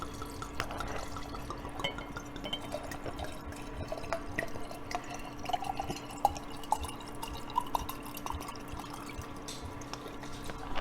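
Liquid is poured into a jar while making homemade vanilla extract, producing faint, close trickling and dripping with small splashes and no speech.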